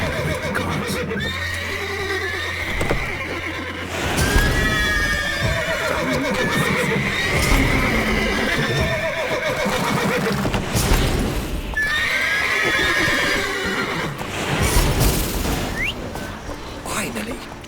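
Horses whinny and neigh several times over hoofbeats and game background noise in The Witcher 3, loud and close, with some speech in between.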